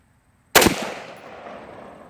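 A single sharp rifle shot at an outdoor range test, loud and close, followed by a short fading echo.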